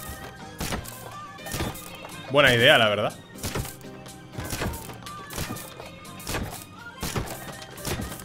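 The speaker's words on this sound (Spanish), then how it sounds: "Shoot the tiles to see where it goes." In the video game Road 96, a run of sharp, evenly spaced gunshots punches through ceiling tiles, each crack loud and percussive, with a voice speaking briefly between them.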